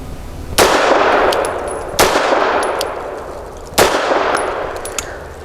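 A Grand Power LP380 pistol fires Remington 88 grain jacketed hollow points, three sharp loud shots spaced unevenly, each followed by a long ringing echo of the range.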